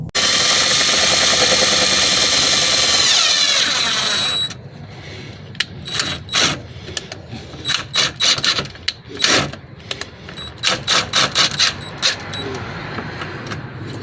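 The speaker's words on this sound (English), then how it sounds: "I've managed to drill it out" A power drill bores out a clip on a Subaru Forester STI SG9 facelift front lip during install, steady whine for several seconds, then a run of short, sharp bursts and clicks, close and loud.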